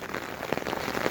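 Rain falls steadily on surfaces at a desert homestead, a soft, close patter of scattered drops with no voices.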